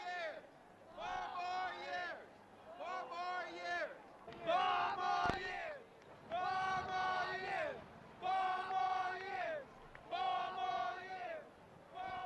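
A large crowd at a rally for President Richard Nixon cheers and chants in loud, rhythmic bursts, roughly six surges of massed voices with short pauses between them.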